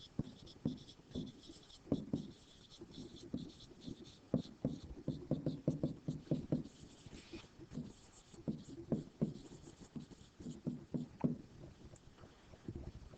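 A pen scratches across paper while a function's graph is traced in one continuous line, making faint, close, steady scribbling with small rhythmic strokes over a quiet background.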